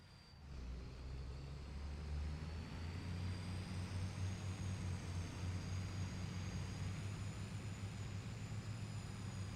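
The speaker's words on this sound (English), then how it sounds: "today the tractor sounds don't seem that loud compared to yesterday" Tractor engine in the Farming Simulator 25 video game: a steady low droning rumble holds constant at moderate level for nearly ten seconds, with a faint high whine riding above it and no talking.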